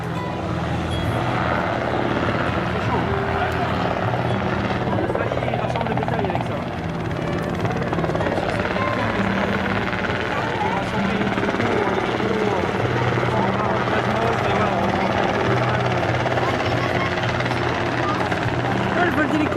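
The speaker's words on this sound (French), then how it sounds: "le vol d'hélico il est là-bas" A helicopter flies at an air show, its rotor and engine noise a continuous, fairly loud drone that persists throughout while people chat nearby.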